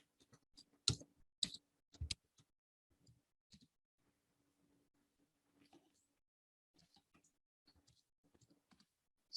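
Computer mouse clicks during Salesforce Pardot software work, a few sharp clicks close together early on, then faint scattered ticks in a quiet room.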